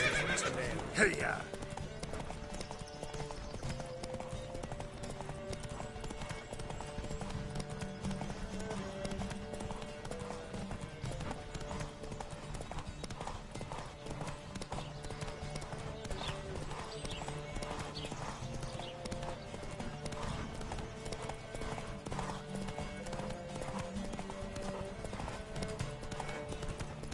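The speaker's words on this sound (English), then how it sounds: "Don't spare the horse!" Horses gallop in a race in The Witcher video game, with a fast, steady clip-clop of hooves continuing throughout, a whinny near the start, and game voices and music underneath.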